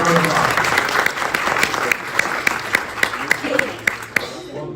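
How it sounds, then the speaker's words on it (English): Audience at a symposium breaks into applause for the speakers, a close, loud rush of clapping with distinct sharp individual claps standing out, thinning toward the end. "give them a round of applause."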